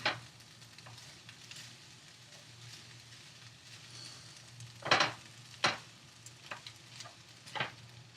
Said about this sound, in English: I am just going to heat them up a little bit, saute them, warm them up, give them some flavor.